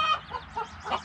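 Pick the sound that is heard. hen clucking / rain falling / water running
hen clucking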